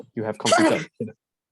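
Someone indoors lets out one quick, close sneeze between bits of speech.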